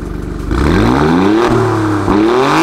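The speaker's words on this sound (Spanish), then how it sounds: "prueba de ello es el sonido que emite esta camioneta" An Alfa Romeo Stelvio QV SUV engine revs loudly up close, its pitch climbing in two strong surges with a brief dip between them.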